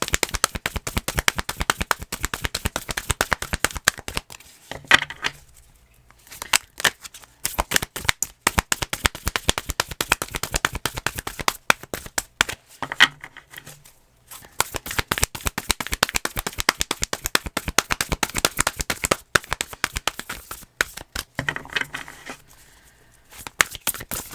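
Tarot cards are shuffled in long bursts of rapid riffling patter, close and crisp, broken by two short pauses before shuffling resumes. No one speaks.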